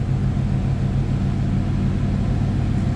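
A 1991 GMC Syclone idling just after a cold start, a steady low engine rumble with a slight rhythmic pulse, close and loud, constant throughout with no voices.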